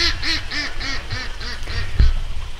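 A female duck held in a pen quacking loudly and repeatedly, a steady series of about eight hoarse, evenly spaced quacks close by, with a light thump near the end.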